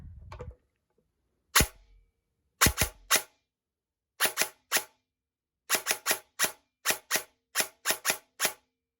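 An airsoft gun fired in semi-automatic mode gives sharp, close single cracks, first spaced out and then in a quicker, fairly even run of about a dozen shots, with no voices.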